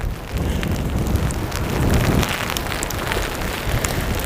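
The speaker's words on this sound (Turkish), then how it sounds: "Şu an öyle bir kar bastırdı ki size anlatamam. Hem kar hem rüzgar." Steady roaring wind with a dense patter of heavy snow on the microphone and surfaces, loud and continuous throughout, no voices.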